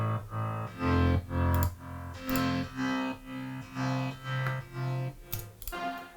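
Electronic kick drum thumping in a steady beat, with the rest of the mix pumping and ducking around each hit alongside distorted synth layers.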